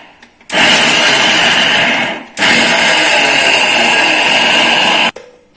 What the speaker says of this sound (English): Let's grind it and add that oil.